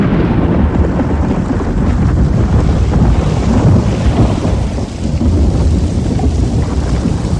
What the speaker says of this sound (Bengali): প্রচন্ড শব্দে বাজ পড়ল